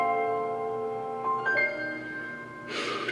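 Soft, ringing piano chords open a song and decay gently at a moderate distance. A sharp breathy burst near the end cuts over the sustained notes.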